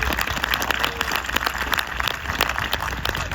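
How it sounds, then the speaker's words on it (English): Applause at the Stony Brook University Class of 2024 commencement honoring President McGinnis, a steady crowd clapping that fills the whole moment at moderate loudness without a clear start or finish. "she should get a round of applause"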